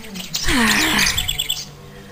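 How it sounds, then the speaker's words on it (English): Birds chirp and tweet in a morning setting, a dense burst of bright calls swelling near and loud, then thinning out toward the end. "Why do those birds always make too much noise"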